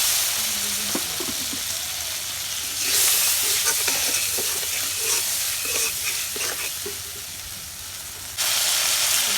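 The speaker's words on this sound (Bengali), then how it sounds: "এই যে মশলাগুলো কষানো হয়েছে" Spices sizzle steadily as they are stir-fried in a pan in a home kitchen, with a constant frying hiss and occasional scrapes and clinks of stirring. The hiss swells louder midway, and no one speaks.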